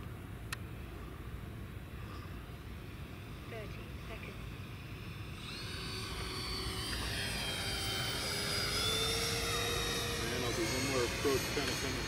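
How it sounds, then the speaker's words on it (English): L-39 Albatros jet making a slow pass in from the mountainside on a Montana spring day, its turbine whine faint at first, then swelling steadily louder over rushing background noise. "couple slow passes here, Jake, coming in from the mountainside."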